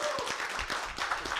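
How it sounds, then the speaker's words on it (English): Short, soft burst of clapping from a small audience at a sustainability pitching challenge, with individual claps audible in a quick, uneven patter. "Give him a round of applause"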